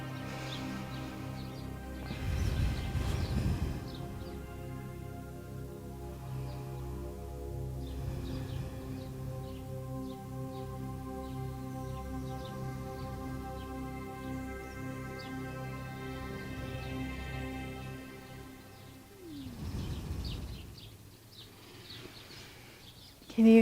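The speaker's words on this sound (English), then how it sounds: "Can you hear all the birds?" Small birds chirping and twittering outdoors near birdseed, faint scattered calls over a steady low background hum throughout, no voices.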